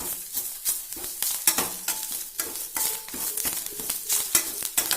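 Curry leaves and coriander leaves sizzle in a pan for sambar, with steady frying crackle and repeated scraping strokes of a stirring spoon close by.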